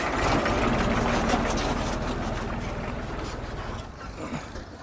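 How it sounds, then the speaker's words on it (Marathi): A tractor engine runs along a straight village road near the Narmada riverbank, a loud, steady low rumble close by that slowly fades as it moves off. "ट्रॅक्टर चालू आहे त्या रस्त्याने."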